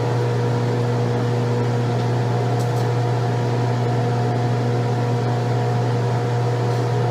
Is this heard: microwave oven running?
yes